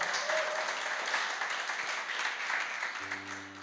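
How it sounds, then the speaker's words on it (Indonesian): Church congregation applauding at a worship service, a dense wash of many hands clapping at moderate level that slowly fades as a sustained music tone enters near the end. "Keren, tepuk tangan."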